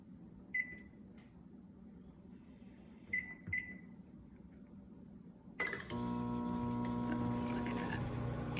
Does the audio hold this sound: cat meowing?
no